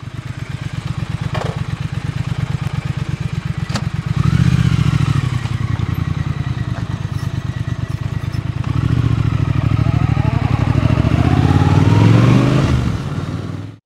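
A Triumph Thruxton RS cafe racer motorcycle rumbles close and loud in a steady pulsing idle, then revs up twice with rising throttle surges before cutting off.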